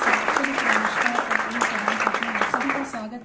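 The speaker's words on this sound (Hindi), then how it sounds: "आप जोरदार तालियों से स्वागत कीजिए।" Audience at a Hindi poetry recital breaks into loud, sustained applause welcoming poet Shobhna Ritu Shukla, dense steady clapping throughout with a voice briefly audible underneath.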